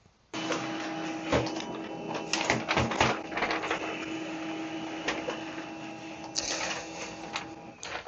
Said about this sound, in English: just click on print and wait for printer to do its job